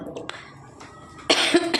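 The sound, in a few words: woman coughing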